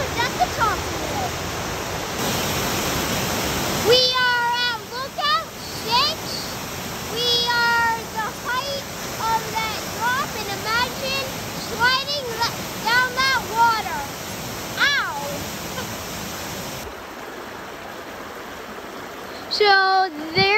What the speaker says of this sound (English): we're at the part where the waterfall is just flowing to go down